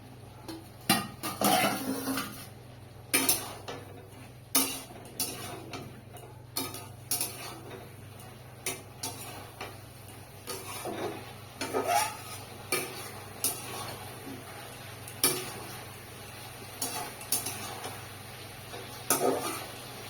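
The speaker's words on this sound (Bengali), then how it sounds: "এবার ঢাকনাটা তুলে একটু নাড়া দিয়ে দিই।" A lid lifted off a pot of ivy gourd curry, followed by repeated clinks and scrapes of a spoon stirring against the pot over a faint low simmer, with no talking.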